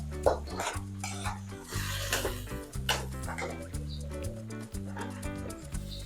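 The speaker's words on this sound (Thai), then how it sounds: "ใครจะยีให้เละเลยก็ได้ แต่ผมจะยีให้มันเป็นชิ้น แล้วก็ผัดให้เข้ากัน" Mashed canned fish chili paste being stir-fried in a pan, with repeated metal spatula scrapes and knocks over a low tonal hum, close by and without speech.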